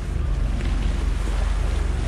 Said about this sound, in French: Alors j'ai mis le moteur à 2600 tours et il n'a pas l'air de faire le bruit à 2600 tours.